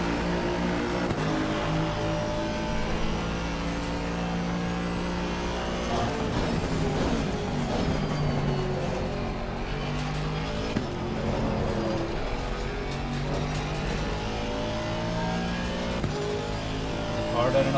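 Race car lapping a track in the ACC sim racing game, a continuous engine drone rising and falling through gear shifts and revs, with someone talking over it.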